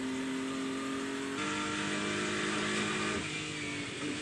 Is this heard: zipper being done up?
no